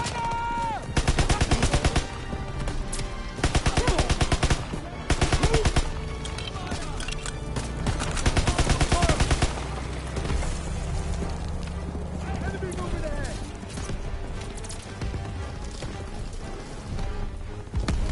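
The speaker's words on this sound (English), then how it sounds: "MGs firing on our position!" Machine gun fire in the World War II shooter Call of Duty WW2, with rapid rattling bursts repeating at close range amid a busy battlefield din and voices shouting.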